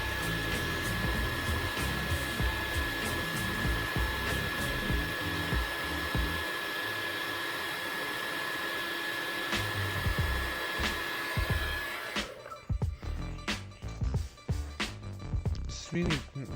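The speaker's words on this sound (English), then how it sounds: "here's me heating up the notch area so I could remove the screen, the bezel, the frame" A heat gun or hair dryer blows steadily on the notch area of an original Samsung Galaxy Fold during a screen removal repair, a continuous airy roar that shifts partway through with scattered clicks and handling noises.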